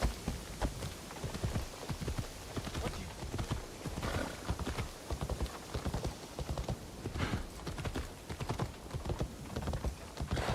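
Steady clip-clop of horse hooves at a trotting rhythm, close and continuous throughout, with no talking, in Assassin's Creed Shadows.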